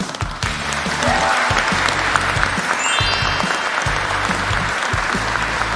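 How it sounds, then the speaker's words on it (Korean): Sustained applause from a crowd at a South Korean cabinet meeting, dense clapping filling the whole stretch at steady loudness with no voices on top. "우리 노동부 장관님과 직원들 위해서 박수 한번."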